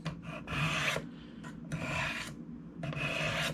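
A knife blade is drawn along the rods of a Spyderco Triangle Sharpmaker in separate one-way strokes, each a bright gritty rasp lasting about half a second, with pauses between strokes and no speech.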